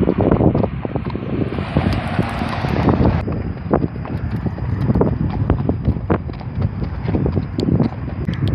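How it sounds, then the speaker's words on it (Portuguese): Strong wind blows across the microphone outdoors during a horseback ride, a steady loud rush broken by gusts, with faint hoof clip-clop underneath. "Ignorem o vento."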